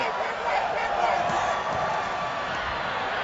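A large football crowd at Lambeau Field roars in a steady, distant wash through a 2008 Falcons at Packers game, and a commentator talks over it.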